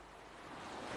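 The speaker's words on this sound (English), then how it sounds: "the sound you can hear is the waves as they break onto the shore" Waves break onto a beach shore, a soft broadband wash of surf that swells gradually louder over about a second, heard alone without voices.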